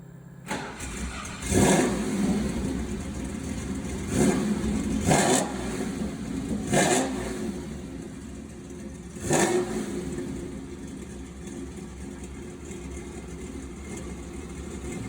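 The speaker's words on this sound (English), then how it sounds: "let's fire it up and see what it sounds like" A Lamborghini LM002's 5.2-litre V12 engine cranks and fires up, then settles into a rumbling idle punctuated by several sharp revs, loud and close throughout.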